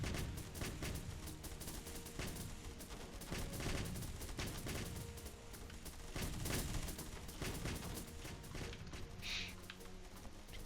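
Heavy tank cannon and gunfire in the video game Home Wars, a dense, continuous barrage of loud overlapping shots and booms lasting throughout.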